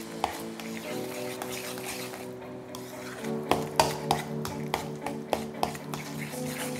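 A spoon works baking powder into potatoes in a bowl, giving a run of rhythmic, close scraping clinks against the bowl, with a steady hum underneath.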